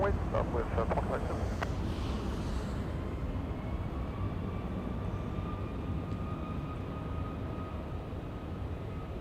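Lufthansa flight LH453 airliner taking off from runway 24 left at Los Angeles International Airport, a steady distant jet engine roar that holds throughout, with faint voices talking early on.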